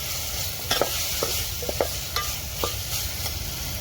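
Biryani masala being stirred into egg biryani in a pan: a continuous soft sizzle with scattered scraping clinks of a spoon against the vessel, close and alone.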